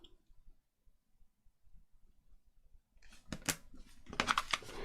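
Paper being cut with scissors into small pieces for a junk journal, a few crisp snipping sounds close by in the last two seconds after quiet faint rustling.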